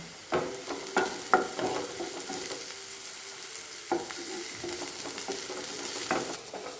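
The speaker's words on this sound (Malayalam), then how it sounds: "നമുക്കിതിനെ നന്നായിട്ട് ഇളക്കി ഈ സവാളയുടെ കളറൊക്കെ മാറി വരട്ടെ കേട്ടോ." Sliced onions and green chillies frying in a pan, a soft continuous sizzle with irregular spatula strokes and scrapes at a moderate distance, fairly quiet overall.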